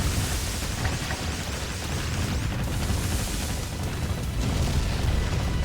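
Explosions from enemy warships sinking in the naval combat game Warship Gunner 2: a dense, continuous rumbling roar of booms and blasts, loud and sustained throughout with no clear gaps.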